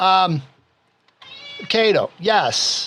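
A house cat named Enrique meows indoors, giving several loud, close, drawn-out calls between short pauses, with someone speaking briefly alongside.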